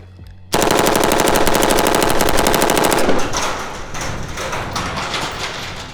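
A Polish Tantal AK rifle fitted with a Texas Triggers FRT forced-reset trigger fires one loud, unbroken, very rapid string of shots for about two and a half seconds. Echo and a scattered rattle, like falling brass, follow.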